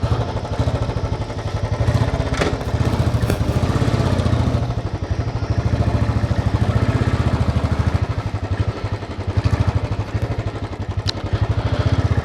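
A loaded motorcycle, freshly fuelled for a long ride, runs steadily up close. Its loud, continuous engine chug holds for the whole stretch with small clattery bursts and no speech.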